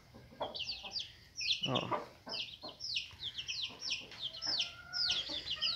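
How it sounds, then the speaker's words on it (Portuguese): Hen and half-grown chicks clucking and cheeping nearby, a busy stream of high chirps over low clucks, with a person speaking briefly. "Aqui os pintinhos já estão grandes."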